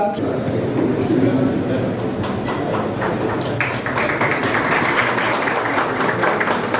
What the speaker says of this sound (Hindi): तो जोरदार तालियां चाहूँगा उनके लिए